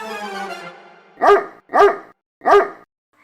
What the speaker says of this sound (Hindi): कुत्ते, तेरी तो ऐसी की तैसी, तू मुझ पे भौंकेगा?